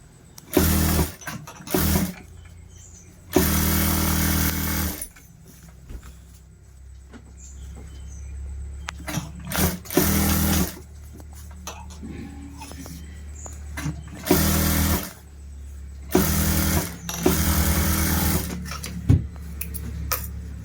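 A tailoring sewing machine stitches plain blouse cloth in several loud, close bursts of rapid whirring, separated by quiet pauses, with a voice talking in between.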